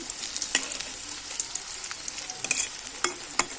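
Bora fritters frying in hot oil, a steady close sizzle broken by a few sharp clicks and scrapes of a spatula turning them in the pan.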